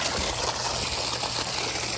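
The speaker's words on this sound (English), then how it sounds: "You can see the hose is still draining good, draining the pond." Water gushes from a hose draining a koi pond, a dense, loud, continuous rushing wash with a low pump-like rumble underneath, close by and with no voices.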